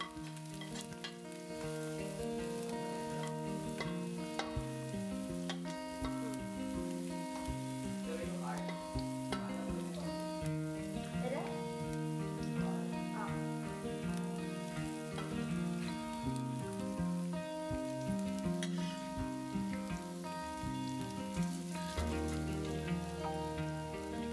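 Continuous crackling sizzle of fenugreek frying in hot ghee, with occasional sharp pops over a busy, steady hiss.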